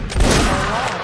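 A massed musket volley crashes out in a Mount and Blade regimental league battle, a single loud rolling burst of many shots fired together, with a voice shouting over it.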